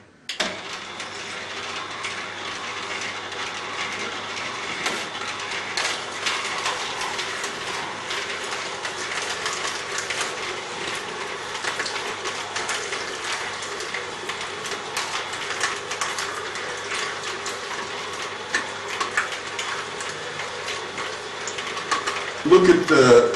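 An Omega VRT330 slow juicer fitted with the coarser sieve runs steadily while juicing tomatoes, giving a continuous mechanical grinding whir with faint clicking and ratcheting, close and even throughout, with a brief louder rattle at the very end.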